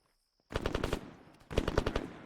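Automatic gunfire from shooters in ARMA 3 during squad training, two loud sustained bursts of rapid shots separated by a brief lull, sounding fairly close.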